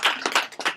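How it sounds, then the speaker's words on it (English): A small group claps after a stress management talk: a few separate bursts of hand claps at an uneven rhythm, fairly close, with no speech. "So let's give a round of applause."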